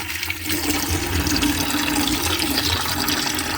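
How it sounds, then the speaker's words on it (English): Water gushes from a household faucet right after a plumbing valve is reopened, a loud, steady rushing flow heard up close without any voices. "Opening water valve."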